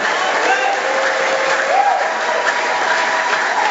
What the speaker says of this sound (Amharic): አምኖ የመጣ እልልታ ጭብጨባ ይሁንለት